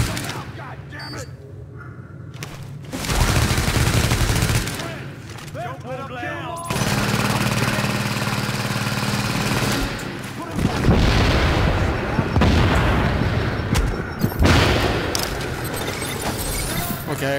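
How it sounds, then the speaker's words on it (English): Gunfire in The Division on a hard daily challenge at the Lexington Events Centre: loud bursts of shots and booming impacts come in heavy clustered waves under game voices and talk. "I got about four shots on her before she fired it."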